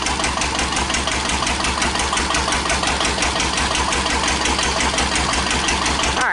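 1941 Witte single-cylinder diesel generator plant running under electrical load, a loud, close, steady rhythmic chugging with regular firing pulses and mechanical clatter, heard alone.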